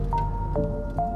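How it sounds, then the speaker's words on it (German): Solution drips drop by drop from a silica gel column in a lab: three soft, evenly spaced plinks over a steady low hum. "Tropfen für Tropfen."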